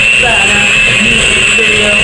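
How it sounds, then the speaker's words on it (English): An electric mixer whirs steadily through cake batter during home baking, a loud continuous close-up hum with a high-pitched whine and no pauses. "Watch that mixing go."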